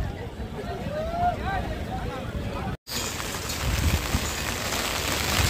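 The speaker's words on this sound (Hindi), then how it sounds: "छतरी उड़ के चले आ रही, उतनी बारिश हो रही" Heavy rain pours in a continuous roaring wash, interrupted once by a brief break before resuming even louder, with a voice faintly underneath early on.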